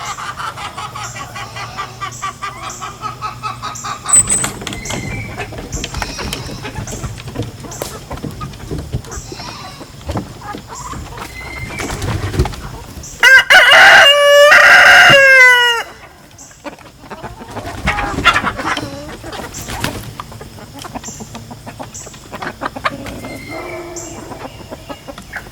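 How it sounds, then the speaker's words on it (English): Chickens cluck and murmur close by, and a loud rooster crows once in the middle, with scattered clucks continuing after. "I'm hanging out by the chickens because we just pulled 5 roosters out of here."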